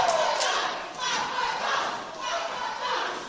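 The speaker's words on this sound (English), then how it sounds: "Crowd trying to get behind Papadon here." A crowd at an independent wrestling event chants and cheers loudly in waves, voices rising and falling together as they rally behind a wrestler during a tag match.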